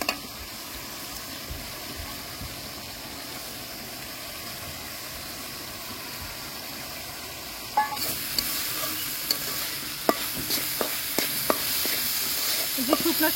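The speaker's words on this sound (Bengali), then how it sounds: "শুকনা শুকনা করে ভেজে নিচ্ছি," Washed, fried rice grains are stirred dry in a pan for a spicy pigeon pulao; a low steady hiss gives way after a few seconds to louder, close scraping strokes and sizzling.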